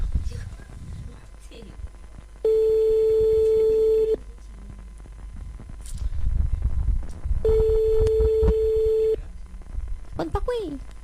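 A telephone rings unanswered over a line, two long steady tone bursts separated by pauses, with a live radio show's background chatter and noise between them.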